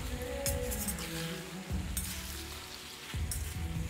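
Seven or eight halved tomatoes frying in about half a cup of oil for chicken karahi: a moderate sizzle with a few dull knocks and clinks of the pan, without talk.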